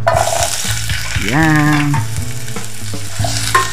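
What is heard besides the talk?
onion sautéing in hot oil in a pot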